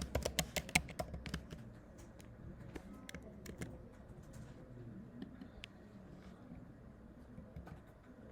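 A pip install command is typed on a computer keyboard in quick bursts of crisp key clicks, busiest at the start and then sparser, over a quiet room background.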